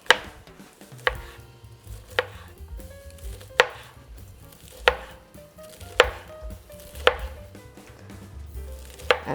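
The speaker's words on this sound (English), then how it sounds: "we are cutting that into 1/2-inch pieces" Knife chopping fresh asparagus into half-inch pieces on a board, about nine crisp, evenly spaced chops at roughly one per second, close and clear with no talking.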